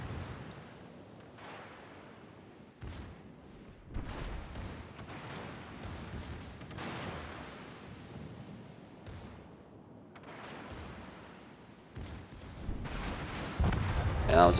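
Secondary battery guns on a warship in World of Warships: Legends firing repeated booming salvos in irregular bursts, mid-distance and fairly loud, with a commentator talking over much of the gunfire.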